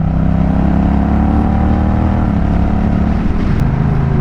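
A Honda Rebel 1100 motorcycle engine drones loud and close on a mountain road, its steady hum shifting pitch partway through as it downshifts.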